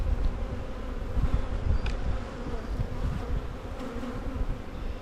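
Honeybees buzz steadily around an open hive during an early spring inspection, a dense close-up drone with individual insects passing near, continuous and fairly loud with no talking.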